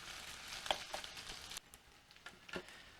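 Ground meat frying in a pan for Finnish macaroni casserole, a soft steady sizzle with a few sharper spatters and stirring scrapes, fairly quiet and close, with no talk.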